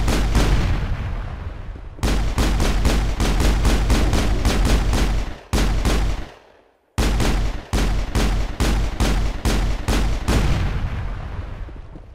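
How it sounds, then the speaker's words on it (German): Gunfire in the video game Mass Effect, shooting away a weak barrier, rapid loud bursts of repeated shots in long volleys separated by short silent pauses. "Entweder einfach nebendran schießen. Oder die Barriere wegschießen."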